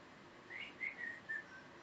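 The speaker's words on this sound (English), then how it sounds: "The whistling you can hear is a mechanical bird" A mechanical bird from Clash of the Titans whistles a few short, bright tweets in quick succession, faint against a low hiss and with no talking.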